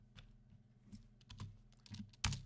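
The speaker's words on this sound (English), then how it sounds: "Y'all know what I'm typing." Fingers tap on a computer keyboard with irregular clicks and small bursts of keystrokes, close but quiet, ending with a harder press.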